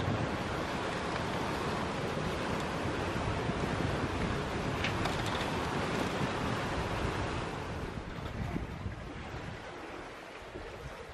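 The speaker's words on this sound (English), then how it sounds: "Hours in and the wind is starting to lighten up a bit" Wind and waves rush continuously around a sailboat sailing across the Pacific Ocean, a broad steady roar of wind and surf that eases slightly toward the end, with no voices.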